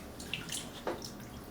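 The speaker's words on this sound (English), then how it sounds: "dip my hands in this water" Hands dipping into and being rinsed in a small container of water while preparing isopod substrate, giving brief soft splashes and drips close by, fairly quiet.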